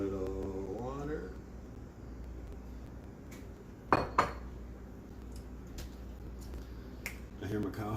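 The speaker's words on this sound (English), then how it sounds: "Please bear with me while we do dishes." Dishes are washed by hand with running water, giving scattered clinks and sharp knocks of pots and cutlery against a low steady hum, a few louder clanks standing out, while a person talks briefly.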